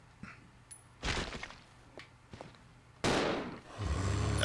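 Gunfire from a handgun in Resident Evil Zero HD Remaster, a few sharp, fairly loud shots spaced out over a few seconds, followed by a sustained rush of in-game noise.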